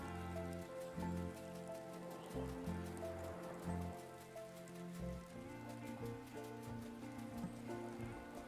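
Rain falls steadily throughout in the farming life-sim game Wylde Flowers, a constant patter mixed with soft game music and no talk.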